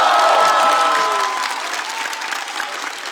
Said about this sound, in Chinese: 来，再次把掌声送给小齐。